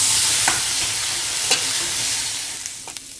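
Fresh grated coconut roasts in a hot kadhai, a close hiss of sizzling with sharp scrapes and clicks of a spatula stirring at irregular intervals, fading slightly toward the end.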